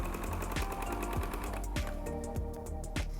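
A sewing machine runs steadily at a normal 2.5 mm stitch length, joining the waist seam of a puff-sleeve wrap dress, with a continuous fast mechanical stitching whir and regular clicks, close and alone.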